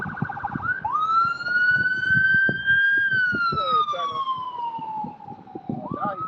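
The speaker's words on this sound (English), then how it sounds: "He just pulled out in front of the ambulance." An ambulance siren wails on a road, loud and fairly near, its long rising and falling tone sliding down in pitch as the vehicle passes, with traffic noise and talk underneath.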